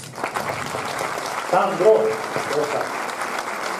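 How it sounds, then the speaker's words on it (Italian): Audience applause for the CRIS group at an evening event in Poggiardo, steady clapping throughout with a voice calling out over it and voices mixed into the crowd noise. "fare un applauso a tutto il CRIS"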